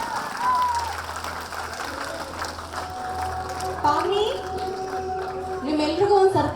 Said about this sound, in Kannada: ಚಪ್ಪಾಳೆ ಬನ್ನಿ ಜೋರಾಗೆ.